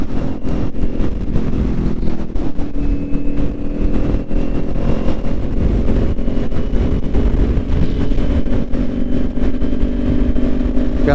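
A 2021 Kawasaki Ninja 400 rides at high revs in sixth gear on a highway, its engine droning loud and steady, close to the microphone and mixed with heavy wind rush throughout.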